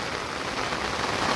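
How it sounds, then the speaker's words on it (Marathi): Light rain falling outdoors by a river during monsoon fishing, a dense even patter of drops on surfaces, steady and moderately loud with no voices. "पावसाचा जोर पण एवढा नाही आहे, पण पडतोय अधूनमधून"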